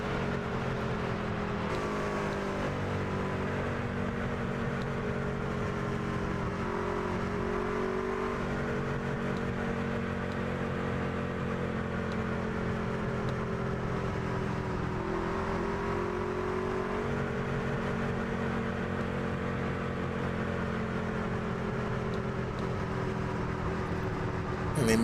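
Stock car engines from a NASCAR racing game drone steadily at a constant loud level, with gently shifting tones as the pack circles the track under caution.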